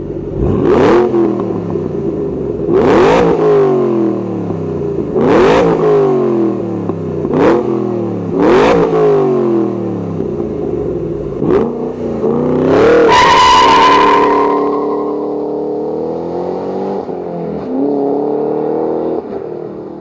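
A 2013 Ford Shelby GT500 Mustang engine blipped in a series of sharp revs, about six rising and falling bursts, followed by one longer, harder rev that settles into a rumbling idle, close and loud.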